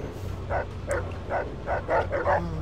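Dogmeat, the dog companion in the video game Fallout 3, gives a series of about seven short evenly spaced barks and yips, close and clear over a low steady background hum.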